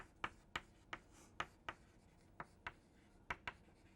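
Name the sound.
writing down a journal reference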